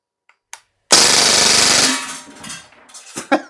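A Crosman ST-1 CO2 blowback steel BB machine gun fired full auto until the 25-round magazine empties, one loud rapid rattling burst of about a second, followed by a few scattered clicks and handling knocks.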